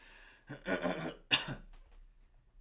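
Two rough coughs close by, the first longer and the second a short sharp burst, followed by quiet.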